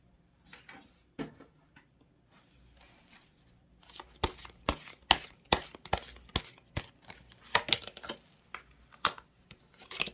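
Tarot cards being drawn and shuffled by hand: scattered soft flicks at first, then a dense run of crisp riffling snaps and card slaps, close and fairly quiet, with no talking.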